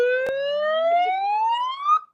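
An alarm built into a breaker button wails as one loud electronic siren-like tone that sweeps steadily upward for about two seconds, heard alone and close, then cuts off.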